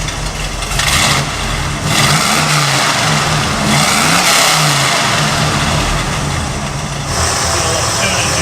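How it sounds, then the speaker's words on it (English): Boat V8 engine swapped into a truck, revving repeatedly in a series of rising and falling pulls over a rough running idle, close and loud. "Wonder how it sounds now that it's on all eight."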